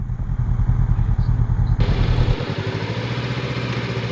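Honda NX500 motorcycle engine idling at a campsite, a steady close low rumble with a faint clatter, the pitch and texture shifting partway through as the rider moves around the parked bike.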